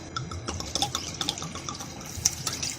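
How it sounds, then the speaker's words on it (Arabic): Water pours in a brief, trickling stream into a bowl of tahini mixture for eggplant baba ghanoush, with light splashes and drips close by. "نحط شويه ميه"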